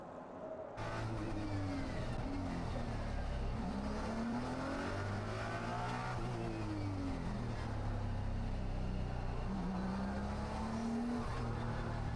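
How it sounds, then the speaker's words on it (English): Race car engines at Fuji Speedway in Japan roar continuously, pitch rising and falling as drivers go on and off the brakes, steady and loud throughout. "As you can hear there, on and off the brakes."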